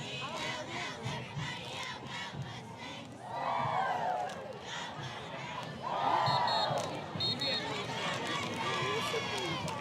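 Middle school cheerleaders of the Mustang cheer squad shout and cheer at a football game, two loud rising group chants amid crowd noise and distant talk.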